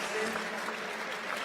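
A big crowd applauding at the 2018 UCI Trials World Cup in Berlin: steady dense clapping and cheering throughout, with a voice talking over it.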